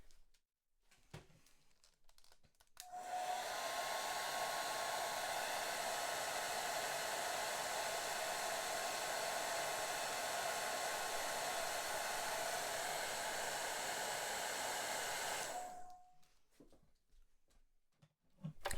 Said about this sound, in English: we're going to have to dry that, so that can be done almost straight away with a hairdryer